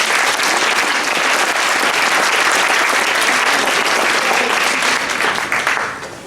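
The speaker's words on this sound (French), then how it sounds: "Chloé, bravo, et on peut l'applaudir." A crowd applauds a young woman named Chloé at a ceremony, steady loud clapping from many hands that holds for several seconds before starting to fade at the end.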